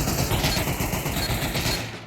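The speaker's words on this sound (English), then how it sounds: "how loud is the gunfire of these AKs" Rapid AK rifle fire crackles in a VR shooter match on an oil rig map, dense overlapping bursts running continuously at close range and fairly loud, with no pauses until a brief drop at the very end.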